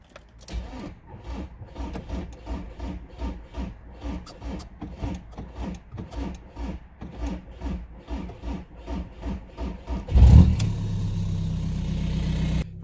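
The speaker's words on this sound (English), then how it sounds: "So, let's try and start this thing." A Seat Ibiza with warning lights on the dashboard slowly cranks over, the starter churning in a long, even rhythmic grind before the engine finally catches and settles into a steady idle near the close.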